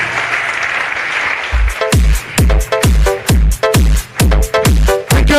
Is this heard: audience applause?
yes